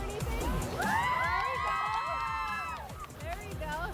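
Pebble Hills girls cheering and shouting together at a Borderland Blitz event, a loud, sustained chorus of young voices with high rising yells, holding steady for several seconds before tapering slightly.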